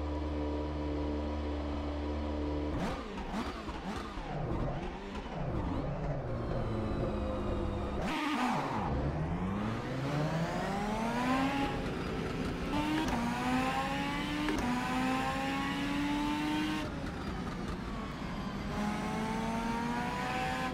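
A car engine in a rainy-weather driving video game, revving and shifting repeatedly with rising and falling pitch sweeps, loud and continuous with no talk.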